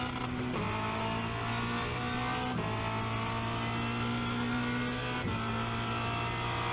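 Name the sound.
Formula Renault 2.0 race car engine accelerating at Spa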